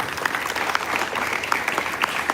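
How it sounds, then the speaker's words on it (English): A large crowd at a sixth form leadership summit gives the teachers a sustained round of applause, steady dense clapping with a few sharper claps standing out. "A huge round of applause to all the teachers"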